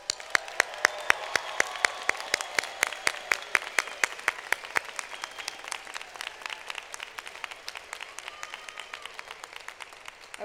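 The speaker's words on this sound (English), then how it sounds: "Let's give our graduates one more round of applause." Sustained applause from a commencement audience honoring public health graduates, steady dense clapping with sharp individual claps standing out, loud and continuous throughout without talk.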